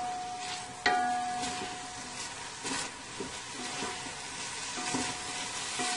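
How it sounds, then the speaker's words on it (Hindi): Onion and bell pepper fry on a high flame, a steady close sizzle with occasional scrapes and clinks of stirring, one sharper knock near the start. "तकरीबन 2 मिनट के लिए हम इसे हाई फ्लेम पर जो है वो फ्राई करेंगे"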